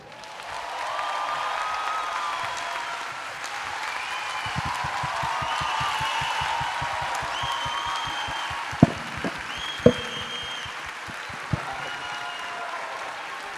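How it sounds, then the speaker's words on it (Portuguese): Audience applause at a TEDx Fortaleza poetry talk, a steady wash of clapping filling the hall for over ten seconds, with rhythmic thumps in the middle and a few sharp knocks near the end. "Batam palmas com firmeza para encerrar esse cordel."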